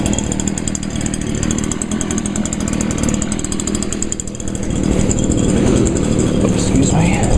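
Two gas-powered backpack leaf blowers, an Echo PB 251 and a Stihl BG 86, run together with a loud steady engine drone and whine that swells slightly toward the end, with voices faintly underneath.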